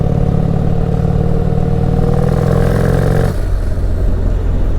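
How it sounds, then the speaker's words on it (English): Turbocharged Harley-Davidson 131ci Stage 4 Street Glide motorcycle accelerating hard, a loud, close, steady engine roar with strong low harmonics that cuts off abruptly near the end, leaving a lower rumble. "You just pull back on throttle and it just feels like it wants to pull up."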